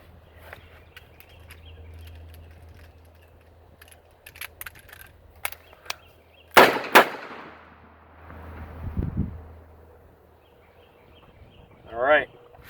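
Revolver shots during a speed reload drill with cheap ammunition prone to light primer strikes: two loud sharp reports close together, a pause, then a burst of noise and a later sharp crack, with faint clicks between.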